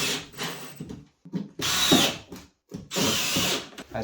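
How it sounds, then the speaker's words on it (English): A power drill bores a pilot hole through a plywood floor laid over floorboards in a bathroom, with several close, loud bursts of whirring motor that start and stop between short pauses. "So just drill another pilot hole about 1 inch away"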